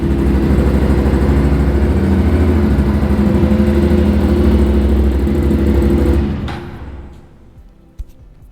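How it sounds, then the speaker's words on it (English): An RS457 motorcycle engine idles loudly and steadily up close while warming up after an oil change. It then shuts off, and the rumble fades to quiet, broken by a single sharp click. "then start the bike, warm it up"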